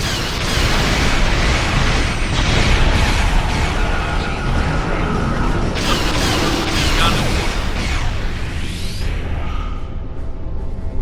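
Starship weapons fire and explosions in a Star Trek Online space battle, a dense, loud barrage of blasts and mechanical bursts that keeps going without pause, with a few sharp impacts near the end.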